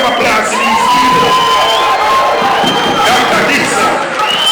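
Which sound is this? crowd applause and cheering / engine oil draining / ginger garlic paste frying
crowd applause and cheering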